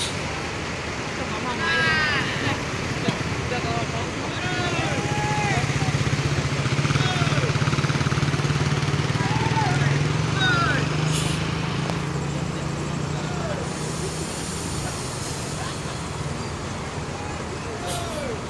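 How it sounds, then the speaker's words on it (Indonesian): A Transport Jaya Expres intercity bus idles with a steady low rumble at a busy roadside terminal, while scattered brake squeals, passing traffic and murmured voices rise and fall around it. "Sepertinya ada yang mau keluar nih bisnya nih."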